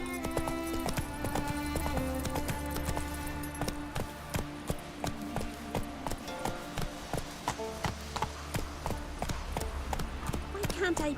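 Roach the horse galloping in The Witcher 3, a steady rapid clip-clop of hooves at close range over a dense music bed, with voices speaking over it.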